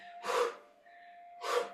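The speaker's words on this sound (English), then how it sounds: "Notice how you release the air from your lungs as you kick forward." Two loud, close breath exhalations roughly a second apart during a qigong exercise with gentle forward kicks, each a rushing airy burst, with a faint steady hum between them.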